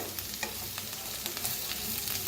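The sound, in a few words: stirring masala aloo bhindi in pan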